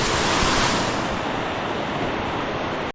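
Water rushes past fallen rocks at a landslide, a loud, steady, broadband roar close by that holds constant before cutting off abruptly.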